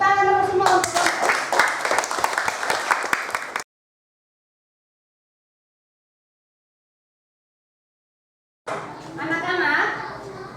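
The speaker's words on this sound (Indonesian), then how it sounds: "Tepuk tangan dulu semua untuk kelompok." Children in a classroom lesson clap together for the groups: a burst of rapid, uneven clapping mixed with voices, then a silent gap, then more clapping and chatter.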